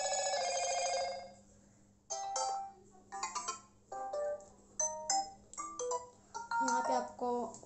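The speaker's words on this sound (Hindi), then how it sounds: "ये सारे नोटिफिकेशन साउंड है" A series of short electronic Motorola Moto G30 notification tones, one after another with brief gaps, starting with a longer ringing chime; faint voice-like sounds in between.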